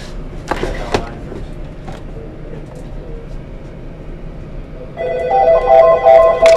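A telephone on a police 911 dispatch system starts ringing near the end, a loud electronic ring following a few scattered clicks and knocks in a quiet room.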